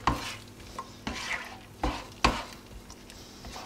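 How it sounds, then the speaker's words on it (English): Eggs stirred in a frying pan for an omelet, with a few distinct scrapes and knocks of a utensil against the pan at irregular intervals over a faint sizzle, close and fairly quiet. "give it a quick stir so it doesn't stick at the bottom"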